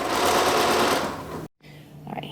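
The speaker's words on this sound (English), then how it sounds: "here I am stitching it on" A sewing machine stitches bias binding onto a shirt seam with a fast, even mechanical whir close by, stopping abruptly partway through before a faint quieter rustle.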